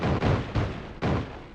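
Chain of bomb explosions in the video game Spelunky 2, three heavy booms in quick succession, each cutting in sharply and rumbling on into the next, loud and close with no voices.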